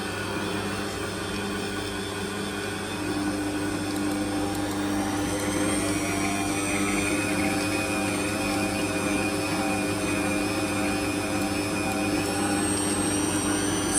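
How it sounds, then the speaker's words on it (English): A kitchen electric mixer whirs steadily through chocolate chip cookie dough, a constant droning motor hum that holds loud and even throughout with no talking. "And then we're just going to mix this together so it's fully combined."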